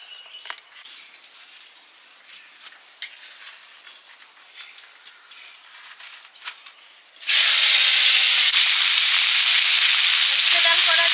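Thin bitter gourd slices drop into hot oil, bursting into a loud, sustained sizzle after several seconds of soft clinks and kitchen clatter.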